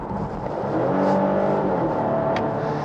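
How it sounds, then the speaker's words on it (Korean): A Volvo S60 B5 with a 2.0-litre single-turbo engine and Aisin eight-speed automatic accelerates, its engine drone rising steadily in pitch and loudness from inside the cabin, with a brief faint click partway through. "이 터보가 터질 때 느껴지는 그 엔진의 소음까지는 괜찮아요"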